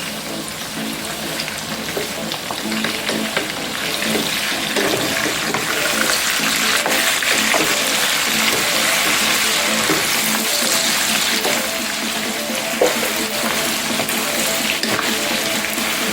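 Onions sizzle and spit in an overheated pot while cooking a Jamaican pepper pork stir-fry, making a loud, steady broadband hiss dotted with crackles that runs unbroken with no talking.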